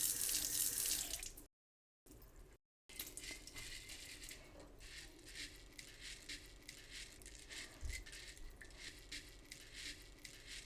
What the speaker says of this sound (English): So I'm going to rinse my lentils.